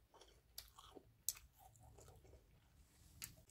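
Someone bites and chews a crisp, juicy apple close up, a few sharp crunches followed by softer wet chewing, quiet and alone.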